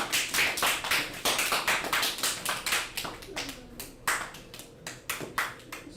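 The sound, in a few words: applause, clapping for the class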